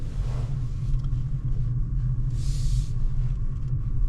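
Opel Frontera Hybrid 145 gliding on electric power through a multi-storey garage, a steady low rumble and faint hiss of a near-silent drive with no engine note, with one brief brighter whoosh partway through.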